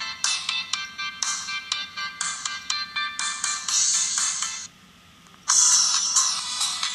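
Ringtone from a mobile phone, a bright electronic melody of rapid repeated synth notes, loud and close, with a short pause before it starts again; no talking.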